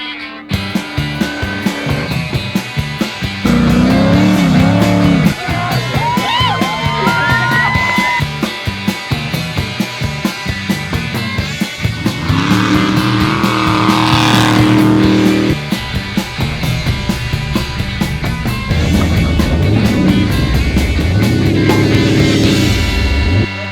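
An Ultra4 off-road race car in the 4400 class revs and roars hard, its engine surging and dropping through gear changes at close range, with occasional distant shouts from the crowd.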